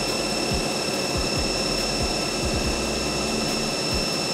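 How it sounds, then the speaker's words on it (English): A CNC lathe parting blade cuts off a machined washer amid a steady, loud machine drone with a constant whine and a dense cutting hiss, with no speech. "So we're going to cut the washer off using the parting blade."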